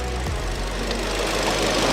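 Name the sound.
car engine idling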